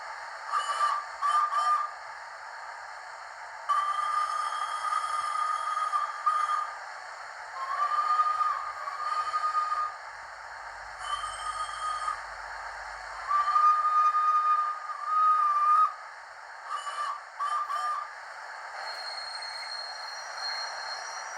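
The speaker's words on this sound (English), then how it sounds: "And then our larger whistles on 3." Repeated whistle blasts, some long and some short, from a Hornby Class A3 Flying Scotsman model steam locomotive's larger whistle, sound over a steady hum, with a fuller, deeper tone than a tiny toy whistle.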